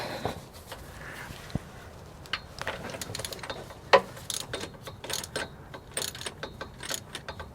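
A 36 mm wrench working an oil cooler line fitting on a GM 6.5L diesel engine, giving faint intermittent metallic clicks and ratcheting ticks with one sharper clank, close by in a quiet space with no talking.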